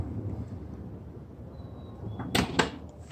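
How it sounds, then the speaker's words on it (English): Power sliding door on a 2016/2017 Kia Sedona minivan, a low mechanical rumble and whir of the motorized door, ending with a couple of sharp latching clunks, close by and without talk. "All the power doors work very well."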